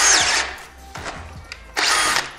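A DeWALT DCD791/DCD796 18V XR brushless drill boring with a 35 mm Forstner bit, giving three loud, close bursts of whining, grinding cutting separated by brief pauses.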